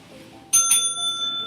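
A bicycle-style bell rings twice in quick succession, two bright metallic dings with a lingering shimmering ring fading over a quiet background.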